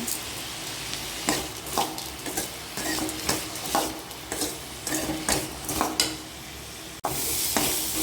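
Sliced beetroot sautéing in a pan for chutney, a steady close sizzle broken by repeated scraping stirs of a utensil against the pan, with a brief sharp break near the end.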